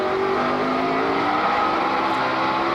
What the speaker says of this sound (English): You hear Junior's engine just jumping in RPM. Spun the tires a little bit off the corner.